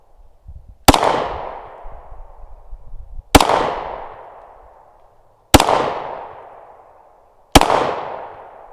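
Four sharp, loud pistol shots, from a Glock or a 1911, fire outdoors at uneven intervals about two seconds apart, each crack followed by a long fading echo.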